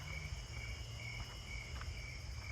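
Snowy tree crickets chirp in a steady, continuous high trill with soft pulsing beats, surrounded by a constant low outdoor rumble.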